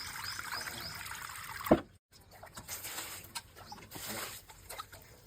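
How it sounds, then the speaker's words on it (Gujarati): Sliced potato wafers are swished and rinsed in a vessel of water, making soft trickling and sloshing splashes. Bursts of slightly louder agitation are followed by a short silent gap, after which quieter, intermittent water movement continues nearby. "આપણે એને સારી રીતે આમ હલાવીને ધોઈ નાખશું એટલે બધું એકદમ ચોખ્ખું થઈ જાય."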